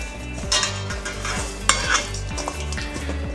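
Salmon pieces being mixed in a sweet and spicy marinade, giving a steady close stirring and wet sloshing over a low hum, with a couple of sharper clicks of a utensil against the bowl.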